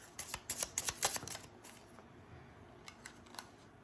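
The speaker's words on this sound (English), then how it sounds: "Any additional cards for this Page of Cups?" Tarot cards being shuffled by hand: a quick run of crisp, papery riffles in the first second and a half, then a few softer isolated flicks and taps, close and fairly quiet with no talking.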